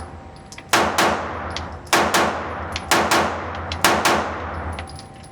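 Pistol shots fired one-handed with the dominant hand during shooting practice, six sharp reports in irregular pairs and singles, each with a ringing metallic tail, over a low steady hum.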